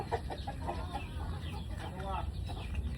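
A chicken clucks in short, irregular bursts in a rural yard, with steady outdoor background noise running underneath throughout.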